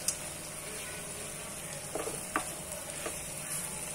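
Chicken frying in a pan for a hot chicken fry gives off a steady, even sizzle, with a few soft scrapes of stirring breaking through near the end.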